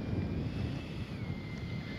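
Wind buffeting the microphone at an RC flying field, a low continuous rumble with a faint high whine of a model jet drifting in the background.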